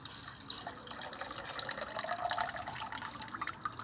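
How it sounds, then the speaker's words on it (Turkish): Running water rinses iron oxide ore until it runs clear, a steady moderate splashing and trickling like a tap filling a sink, continuous throughout with no speech. "Bu böyle su dupduru oluncaya kadar yıkayacağız."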